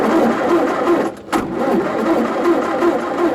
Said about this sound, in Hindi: लगता है इंजन में कोई प्रॉब्लम है